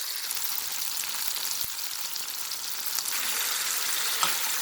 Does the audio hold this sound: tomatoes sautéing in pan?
yes